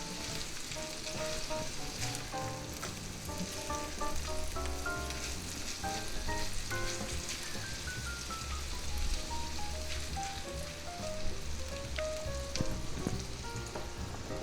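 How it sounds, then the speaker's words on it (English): Beef, onions, peppers and a few spinach leaves sizzling steadily in a pan for a quesadilla filling, a dense crackling fry with a utensil stirring through it, fairly quiet and without voices. "Now let's give that a little stir."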